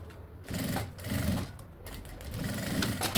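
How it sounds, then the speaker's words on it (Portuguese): Sewing machine stitching a strap with its finishing trim in one pass, a steady close whirring hum in a few runs with brief pauses between them. "Já costuro de uma vez só."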